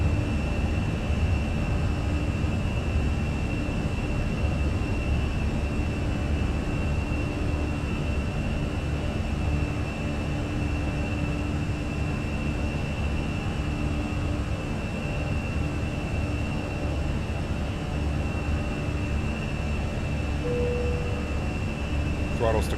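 Airbus A320 engines in a flight simulator give a steady, loud, broadband roar during the takeoff climb, with a constant high whine over a rumbling low end, unbroken for the whole stretch.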